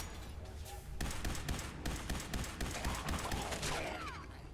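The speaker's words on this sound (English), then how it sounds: "The constant gunfire coming from me is a pretty good indicator there, Piper." Rapid, sustained gunfire from the Fallout 4 video game crackles as a dense stream of shots. The volley runs steadily for several seconds with a faint voice in the background.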